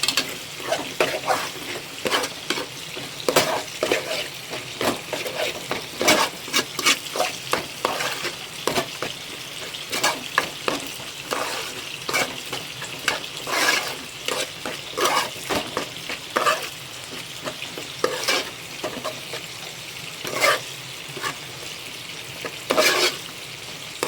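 A spoon stirs Kashmiri chilli powder into a ginger-garlic masala in a frying pan for karimeen pollichathu, repeated scraping strokes over a faint continuous sizzle, close and moderately quiet with no talk.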